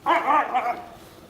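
A dog gives a couple of close, sharp barks and yips near a young lion cub, trailing off into a brief whine.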